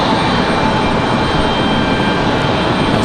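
An Airbus A321 airliner departs for Charlotte, a close, loud and even jet engine rumble holding constant throughout with no voices.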